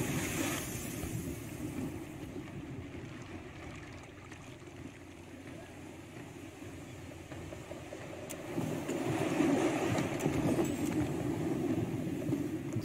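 A sailing ship moves over the sea in Pillars of Eternity 2, a steady rushing wash of waves and water that swells louder toward the end, with a soft murmur of voices now and then.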